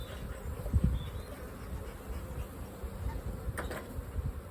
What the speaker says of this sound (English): once those bees are shook off